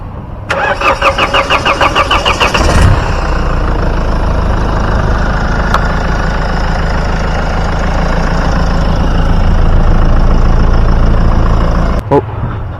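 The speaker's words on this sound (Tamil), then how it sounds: "வாங்க வண்டியோட இன்ஜின் சவுண்டு எப்படி இருக்குது அப்படின்றத பார்ப்போம்" A Mahindra XUV500 SUV engine cranks and starts with rapid pulsing, then settles into a steady, loud idle close by, with a couple of sharp clicks.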